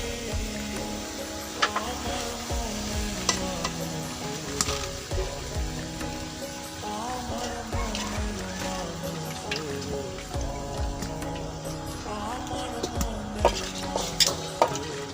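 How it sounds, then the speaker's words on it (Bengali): Malabar spinach being stir fried with spices in a pan, a steady sizzle with repeated scraping and stirring clatter throughout, close and moderately loud with no talk. "এখন ভালোভাবে নেড়ে ছেড়ে মশলাগুলো মিশিয়ে নিব।"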